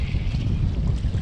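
Choppy waves and strong wind on the Mississippi River by the French Quarter make a loud, continuous rumble of water and gusts buffeting the microphone from a fishing boat.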